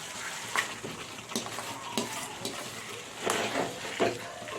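Potatoes frying in a pan for Odia-style masala bara, a steady low sizzle with scattered stirring scrapes and a few sharper clinks, close and moderately quiet, with no voices.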